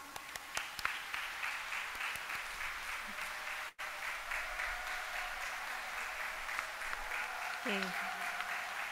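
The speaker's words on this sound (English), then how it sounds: "Let's give them a warm round of applause." Warm applause for a graduating Grade 6 class of 2022 standing at a school closing ceremony, a steady wash of clapping from the gathered community filling the hall, with a voice speaking briefly over it.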